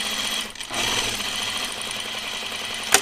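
A sewing machine stitches the side seams of a uniform tunic in a fast, continuous mechanical whir, up close and loud, with a short pause near the start and no talking.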